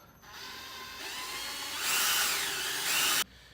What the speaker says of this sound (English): Next, we're going to drill out the hole for the cord to run through.